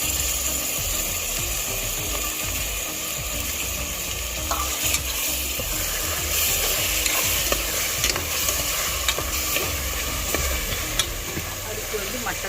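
Mutton curry with yogurt just added being stirred in a pan, a continuous sizzle under repeated scraping and clicking of the spoon against the metal, steady and close with no voice.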